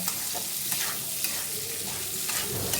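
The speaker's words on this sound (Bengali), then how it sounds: "একটু গ্যাস কমিয়ে ঢাকা দিয়ে দিয়ে ভেজে নিই মটরশুঁটিগুলো নরম হওয়া অবধি" Green peas stir-frying in a pan for chicken fried rice, a constant close sizzle with soft scraping from stirring and no voices.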